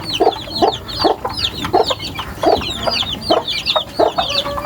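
Baby chicks peeping in rapid, repeated high chirps, close and fairly loud, with a few lower clucking notes from older fowl mixed in throughout.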